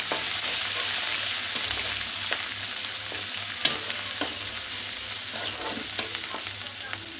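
Ginger paste, turmeric and chili powder fry in a pan with a constant loud hissing sizzle, punctuated by light scraping clicks as the spices get stirred around.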